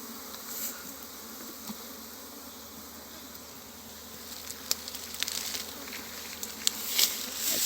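Honey bees buzz steadily around hive frames during a beekeeping inspection, a continuous mid-level drone with a few sharper bursts toward the end, no voices present.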